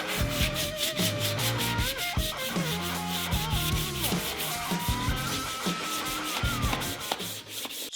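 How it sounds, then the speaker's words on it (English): Sandpaper rubbed by hand over wooden ladder shelf pieces and rungs, a continuous close scratchy rasp under music with tonal notes and no speech. "we're going to hit all of our pieces with a little bit of sandpaper."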